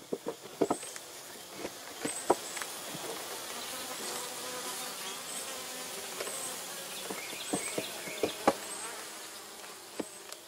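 Honeybees buzz steadily around a Langstroth beehive, a dense close hum dotted with sharp clicks and taps, with no talking.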